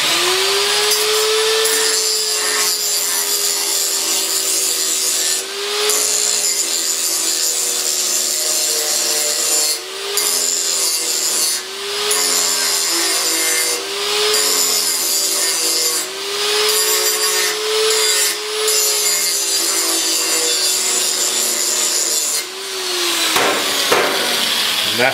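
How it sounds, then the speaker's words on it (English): A grinder works the cutting edge of a mower deck blade, grinding along the side toward the edge in a loud, continuous metallic whine that rises and dips in pitch with pressure over a steady motor drone, briefly easing off a few times before stopping near the end. "I'm going to grind on the side to where it's pulling into the cutting edge, so that it's not rolling out a burr"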